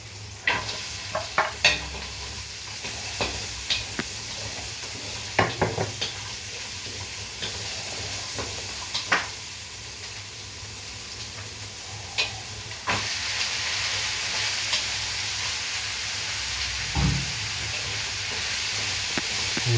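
Carrots sauté in a hot pan for pancit, a steady sizzle and hiss punctuated by scattered clinks and scrapes of a stirring utensil, the frying growing louder and denser in the second half.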